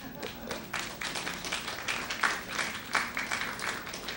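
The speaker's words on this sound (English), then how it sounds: "and please applaud" A modest audience at a Labour Day launch claps in scattered, uneven bursts, fairly faint and a little distant, with no talking over it.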